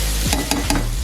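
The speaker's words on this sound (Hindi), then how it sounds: "अब इसी ऑयल में हम डाल देंगे प्याज" Sliced onions hit hot oil with a loud, steady sizzle, marked by three quick stirring scrapes close up, with no voices.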